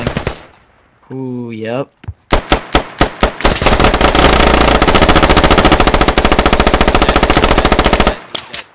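Bursts of AK rifle fire in the video game Squad crack loudly, first a few separate shots, then a long rapid automatic stream, after a brief voiced sound; a short remark is spoken too.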